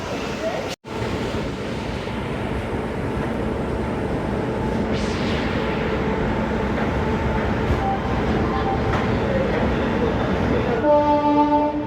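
A goods train rolls past on a parallel track at a station platform, a loud, steady rumble and clatter filling the whole stretch, with a short horn-like tone near the end.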